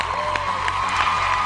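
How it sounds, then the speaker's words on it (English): Studio audience at a televised American Idol singing competition applauds and cheers, a dense steady wash of clapping and crowd noise filling the short moment. "Round of applause for the gentlemen."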